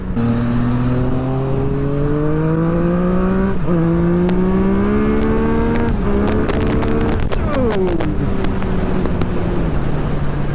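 Yamaha FZ-09 motorcycle with a Woolich ECU flash accelerating hard, its engine note climbing steadily through several gear changes with brief drops between, loud and close throughout with no talking.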